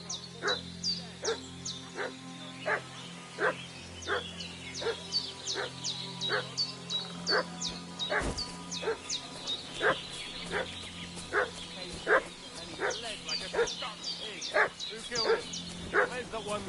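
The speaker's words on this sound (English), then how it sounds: "What's that dog making such a fuss about?" A dog in Kingdom Come: Deliverance 2 barks in a steady, rhythmic series of sharp, fairly close yaps over a low game hum, with a voice speaking partway through.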